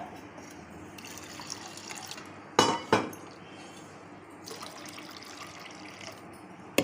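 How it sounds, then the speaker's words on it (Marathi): Dal being rinsed in water in a kitchen vessel: a steady wash of splashing and swirling, with a couple of sharp clinks of metal or glass near the middle. Fairly close and quiet, with no talking. "ती स्वच्छ दोन वेळा मी धुवून घेते डाळ"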